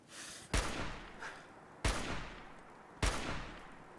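Gunfire in the video game Fallout 4: three sharp, loud shots, each with a booming decaying tail, spaced roughly a second apart.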